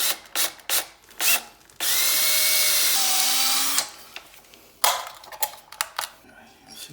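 A power drill bores holes into a flange to free it, running in one steady burst of about two seconds, with a few clanks and short rattling tool noises before and after.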